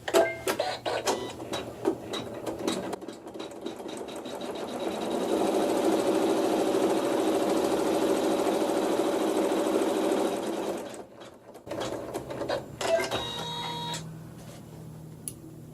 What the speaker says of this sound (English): I'm going to sew a tack down stitch